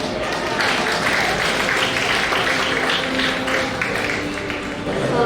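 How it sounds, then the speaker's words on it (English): Applause from an audience at a business school PGDM 2022 honour ceremony, steady clapping spread across the hall, moderately loud and continuous, with faint voices mixed in. "Can we have a round of applause?"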